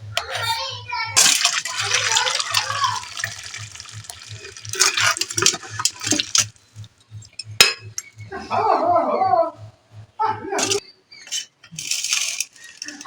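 Cooker lid coming off and mutton being poured into a dish, with metallic clinks, scraping and a wet slosh in bursts between pauses, close by over a low steady hum.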